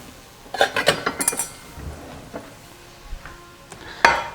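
A knife chops tomatoes into small pieces on a board, giving a quick cluster of close taps followed by a few scattered clicks and a sharper knock near the end, with no talk.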